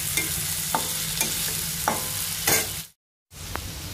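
A medium onion and two green chillies fry in a pan. Steady sizzling is broken by several sharp spatula-stirring clinks and scrapes, a brief silent gap, then more sizzling.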